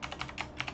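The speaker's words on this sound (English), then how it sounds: "you are typing in your password, and just hit enter" Someone types a password on a computer keyboard, a quick run of close, crisp key clicks at an uneven pace, with no talking.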